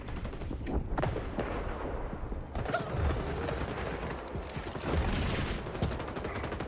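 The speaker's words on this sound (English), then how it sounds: "There's a lot of gunshots going on." Repeated gunfire and rapid bursts of shots in Warzone crackle through a dense, noisy game soundscape, sustained and fairly loud.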